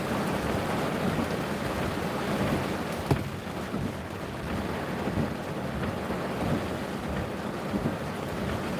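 Steady rain falls in a continuous dense hiss, moderately loud and close, with a brief sharp knock partway through and no voices.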